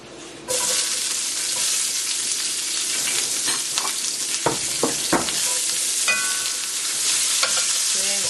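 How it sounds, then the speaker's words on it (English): Peppers and onions hit hot sesame oil in a pan for chicken vegetable lo mein, bursting into a loud steady sizzle, with scattered clinks and stirring scrapes through the frying. "And so now I'm going to add my pepper and onions to this."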